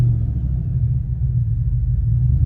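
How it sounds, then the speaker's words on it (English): A truck engine with an aftermarket intake manifold, warmed up to temperature, runs with a deep, steady low rumble and slight wavering in level, close and with no other sounds. "it's doing this little thing where when you kind of free rev it,"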